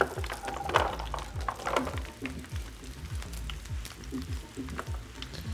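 Vegetables tumble into a roasting pan of beef bones for brown stock, with a soft ongoing sizzle and repeated low thumps as pieces land, fairly faint and close.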